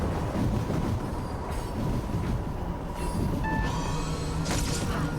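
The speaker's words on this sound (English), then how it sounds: "Bye-bye, train." A train rolls past in the video game Planet of Lana II, a steady broadband rumble of rail cars and wheels running through the whole stretch, with a faint high squeal near the end and no voices.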